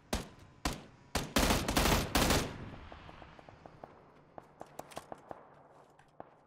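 Gunfire in the battle royale game PUBG, with a few sharp close shots opening into a loud rapid automatic burst, then scattered fainter distant shots trailing off.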